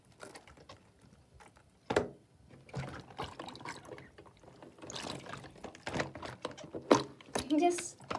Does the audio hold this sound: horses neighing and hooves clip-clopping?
no